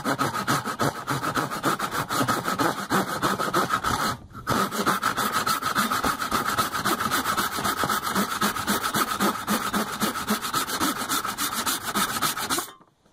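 A Japanese pull saw cuts through a resinous knot in wood with fast, steady rasping strokes. The sawing pauses briefly partway through, then resumes evenly and stops at the end.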